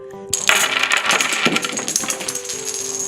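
Hard little pieces spill and clatter loudly in a rapid jumble of clicks and rattles, close up, continuing unevenly for a few seconds.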